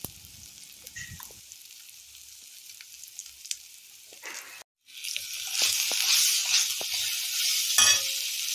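Mango pulp mixture for mango pulihora being stirred in a hot pan, quiet at first, then after a brief gap a louder steady sizzle with occasional scraping clicks.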